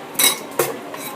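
A butter knife taps and scrapes against a plate while opening a hot Venezuelan arepa, giving two short, bright clinks about half a second apart, close and clear.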